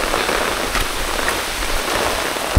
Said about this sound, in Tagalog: Napakalakas yung ulan, mga kaparmer